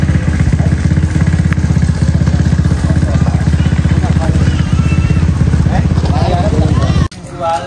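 A motorcycle engine runs close by with a steady, loud mid-pitched drone and rattling clatter for about seven seconds, then cuts off abruptly, leaving quieter background noise; voices can be heard under the engine.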